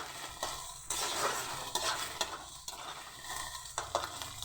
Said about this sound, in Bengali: ভালোভাবে আমি ডিমটা ঝুরো ঝুরো করে ভেজে নেব।